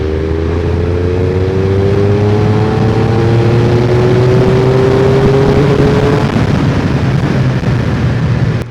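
A Triumph Speed Triple 1200RS accelerating hard in sixth gear from about 47 mph, a loud, continuous engine note climbing steadily in pitch over several seconds amid heavy wind roar, then levelling off.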